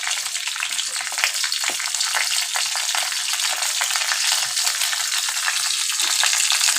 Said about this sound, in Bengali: সর্ষে ফাটতে শুরু করেছে, এবার এর মধ্যে লঙ্কাটা দিয়ে জিরেটা দিয়ে দিন।